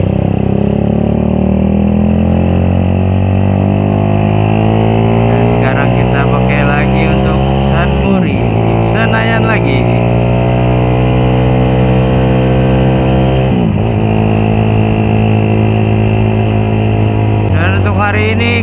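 A motorcycle engine runs steadily while riding on a quiet Jakarta road after sitting unused for two weeks, its loud, close, harmonic drone rising and falling with gear shifts and throttle changes throughout.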